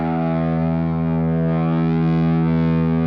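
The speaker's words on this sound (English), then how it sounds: "That's the rest of the amp starting to clip." A sustained, thick distorted guitar tone from a Fender Greta amp driven into clipping, ringing out continuously, loud and saturated, with no playing gaps or voices.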